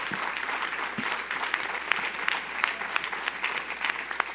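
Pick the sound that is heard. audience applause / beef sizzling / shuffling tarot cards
audience applause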